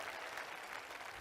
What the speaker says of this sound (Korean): 여러분 박수 한번 부탁드리겠습니다